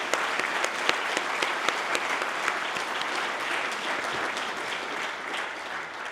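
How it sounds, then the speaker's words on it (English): An audience at a talk gives a sustained round of applause for the event sponsors, dense and steady clapping with sharp individual claps standing out, loud and close throughout with no voices over it. "So let's give them some applause, please."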